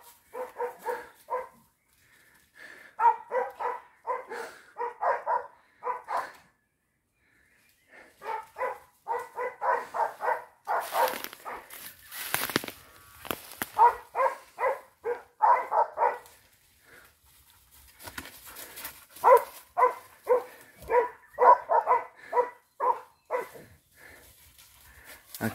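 Mixed-breed hunting dogs in training bark while tracking wild boar, letting out repeated volleys of rapid barks separated by short pauses, moderately loud and somewhat distant outdoors.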